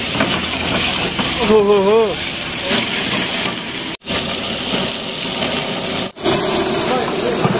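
Ginger garlic paste sizzles in a pan for chicken kosha with a loud, continuous hiss that breaks off twice, while a voice briefly exclaims over it.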